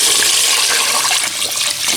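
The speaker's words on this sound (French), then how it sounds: "Et là j'arrose avec de l'eau." Water pours loudly and steadily into a cooking pot of berkoukes pasta with meat, a close, continuous splashing rush with no voices.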